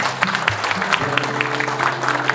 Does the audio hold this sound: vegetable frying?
no